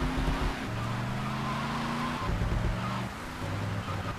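Car engine in GTA Vice City driving around as a taxi, a steady loud engine drone with shifting pitch as it accelerates and changes gear, plus faint tire noise.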